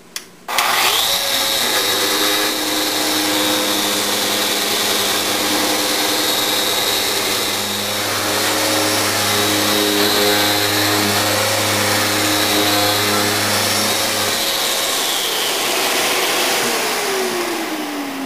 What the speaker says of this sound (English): I'll use my sander in the rotary mode so that it cuts faster.